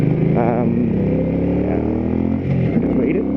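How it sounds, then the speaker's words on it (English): A supersport motorcycle engine pulls hard while riding in second gear toward 60, a loud steady drone with the pitch rising and wavering as it accelerates, continuous through the whole stretch. "this bike, as you can see, I'm in second gear and I'm already up at 60"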